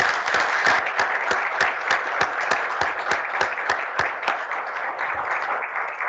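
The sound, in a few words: audience applause for conference panelists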